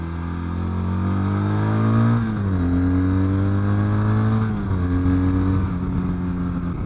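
Triumph Bonneville-based Brooklands café racer motorcycle accelerating on a roll-on, a smooth rising engine drone that climbs in pitch, dips at gear changes and keeps pulling, heard from close by.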